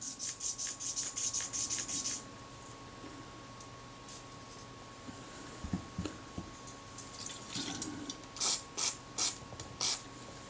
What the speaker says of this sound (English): just work the two backwards and forwards with some solvent in there